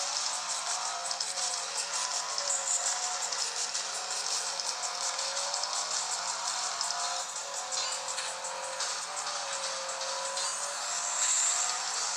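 A racing video game plays on a Motorola Atrix 4G phone, its small speaker giving a thin, continuous engine whine and road noise that holds at a steady level throughout, with no talking.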